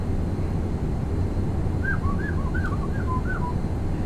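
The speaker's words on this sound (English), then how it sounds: "Can you stop whistling, sneezing into the mic?" A person whistles into a microphone: a run of short, chirpy, bird-like notes rising and falling over a steady low rumbling hum, fairly clear and close.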